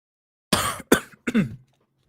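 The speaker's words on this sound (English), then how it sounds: "I'm gonna be coughing all night." A person coughs hard three times in quick succession during a live broadcast, close to the microphone, each burst short and throaty with brief gaps, then silence.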